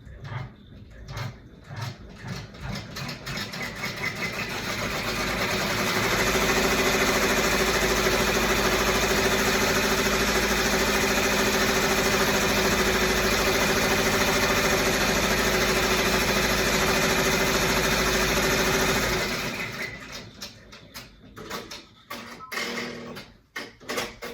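An embroidery machine stitches a fabric face mask in the hoop: a loud, steady mechanical whir dominates the middle stretch, framed by quicker rhythmic stitching pulses at the start and end, with no voices.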